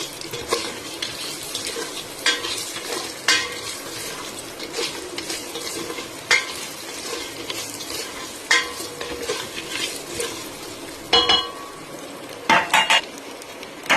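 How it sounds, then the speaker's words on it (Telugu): Onions frying in a pan while preparing foxtail millet upma, a steady sizzle under repeated scraping stirs and clinks of a spoon against the pan, close and fairly loud, with no talking. "ఆనియన్ బాగా ఫ్రై చేసుకుందాం ఫ్రెండ్స్"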